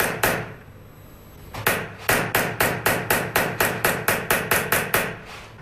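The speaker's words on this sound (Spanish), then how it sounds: "Trabajando la cara interna con una punta roma y un martillo, se sacan los relieves de la pieza." A hammer strikes a blunt punch against a metal sheet to raise embossed relief, loud sharp ringing blows in a steady, even rhythm after a single opening hit and a short pause.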